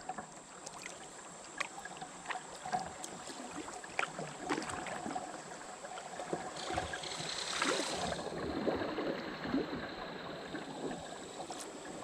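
Moving water ripples and splashes around a kayak on the Gunpowder River near a small riffle, soft and close with occasional paddle knocks and a brief louder rush midway.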